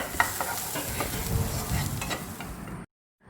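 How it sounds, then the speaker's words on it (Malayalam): Onions sautéing in a pan for bread upma: a steady, close sizzle with repeated scraping stirs that stops abruptly near the end, leaving silence. "ഇപ്പോൾ സവാള ഒന്ന് സോട്ട് ചെയ്തെടുത്തിട്ടുണ്ട്"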